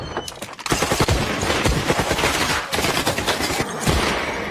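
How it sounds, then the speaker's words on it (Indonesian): Film scene with an intense gunfire exchange, dense bursts of automatic and rapid shots firing continuously and loudly throughout, with no talking. "mereka langsung menembakkan senjatanya masing-masing"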